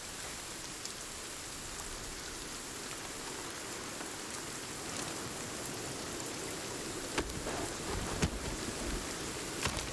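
Steady thunderstorm rain in the survival game Sons of the Forest patters continuously on surfaces, with a few sharper drop impacts and faint rumbles toward the end, and no talking.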